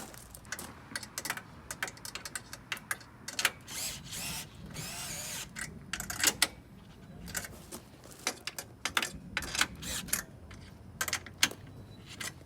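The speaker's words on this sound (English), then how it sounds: "go ahead and tighten the screws for your light bar" A power drill tightening screws on an LED light bar at the lower grille of a 2016-or-later Toyota Tacoma, short whirring bursts with pauses and clicks of handling in between, close and clear.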